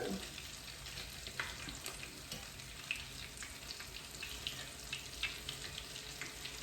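Salmon patties fry in hot oil in a pan, giving a steady low sizzle with faint crackles and a few soft clinks throughout, no voices.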